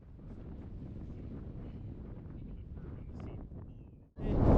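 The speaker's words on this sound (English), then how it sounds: "It's so windy, we're not taking our helmets off." Steady, loud wind buffeting the microphone in a low roar at a high-elevation stop on a motorcycle trip, ending with a sharper gust burst near the close.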